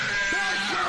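A man yells "meow" in imitation of a cat, a loud, drawn-out vocal cry with rising and falling pitch, heard alone over faint background hum.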